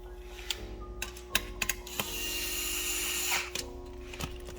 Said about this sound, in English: Use the screw to tighten the bracket.